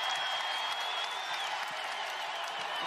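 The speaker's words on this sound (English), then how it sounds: "How about this crowd early on?" A dense crowd roars and cheers continuously in an arena during a women's basketball game between Illinois and Iowa, loud and sustained with no break.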